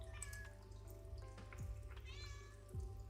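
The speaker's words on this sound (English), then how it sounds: "Oh, kitten's arrived." A kitten meows several times indoors, short rising cries scattered over a low steady hum, with a faint trickle of running water in the background.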